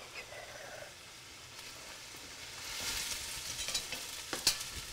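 Chopped carrot and celery for a bolognese sauce frying in a pan, a soft sizzle that builds up with a few stirring clinks and scrapes near the end, with no talk.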